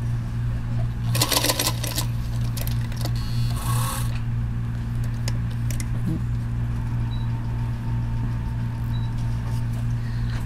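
A Singer Featherweight 221 sewing machine with a bias binder foot runs under a constant motor hum, with bursts of rapid, rattling stitching early on, then a steadier drone.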